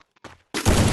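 A sniper rifle fires in a video game. After a few faint clicks comes one sudden, loud, sharp blast with a sustained roaring tail. Nobody talks.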